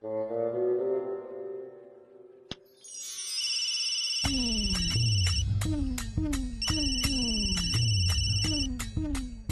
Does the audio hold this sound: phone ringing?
yes